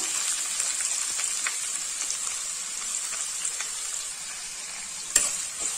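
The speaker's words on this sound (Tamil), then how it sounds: "வெங்காயத்தை நல்லா வதக்கிக்கலாம்" Steady hiss and crackle of onions frying in a pan, with faint stirring clicks and a sharper scrape near the end; no talking.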